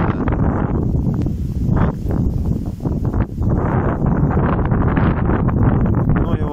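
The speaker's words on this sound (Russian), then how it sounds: "Очень тяжело в такой ветер." Strong wind gusts buffet an outdoor microphone, roaring and rising in uneven surges. A voice can be heard faintly beneath the rumble.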